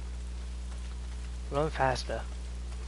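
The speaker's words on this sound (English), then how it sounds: "it's so gorgeous when it rains in the video game" Steady in-game rain hisses without a break in the open-world game Days Gone. A voice speaks briefly over the rain.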